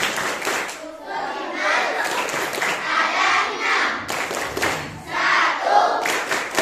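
Children at an elementary school perform the rukun iman clap chant, with rhythmic group clapping and chanting voices in bursts, a brief pause midway, then another round.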